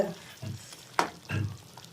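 Half-fried chicken sizzles and bubbles in boiling curry masala in a pan as it is stirred, with intermittent scraping knocks and a sharp clatter midway, no talking.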